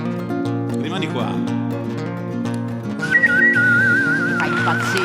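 A person whistles the famous theme from the Fistful of Dollars western film, a clear wavering melodic line rising over backing music on a TV variety show, with a voice heard around it.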